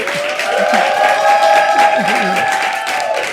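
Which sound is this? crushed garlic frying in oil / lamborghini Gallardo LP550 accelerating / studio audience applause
studio audience applause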